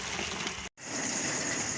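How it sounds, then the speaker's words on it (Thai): Rain falls at night over rice fields near Phimai during a crab hunt, a steady hiss of drops on the surroundings that cuts out for a split second before resuming. "ฝนตกครับฝนตกแห้งหนึ่งครับพี่น้อง"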